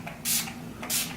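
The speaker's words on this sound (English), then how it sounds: "The last thing that I really like is Urban Decay Makeup Setting Spray." Urban Decay makeup setting spray is misted in two short, close hissing bursts, one after the other with a brief pause between.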